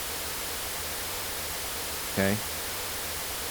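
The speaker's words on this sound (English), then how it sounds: "When I unbypass this, we're going to hear white noise." Steady white noise from an audio plugin in a home studio fills the whole stretch at an even level, with a single short spoken word near the end.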